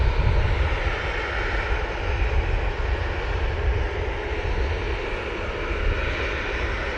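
Steady, loud roar of an Etihad airliner's jet engines at Manchester Airport as the plane banks around, a continuous broadband rumble with no pauses.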